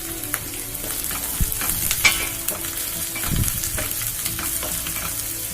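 Sliced shallots and curry leaves sizzle in hot oil for a Kerala-style clam fry, crackling steadily while a utensil scrapes and stirs the pan in irregular knocks.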